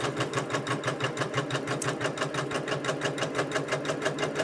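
An embroidery sewing machine stitches a full quilt top and backing held in the hoop, its fast needle pulsing in an even, continuous rhythm at moderate volume throughout.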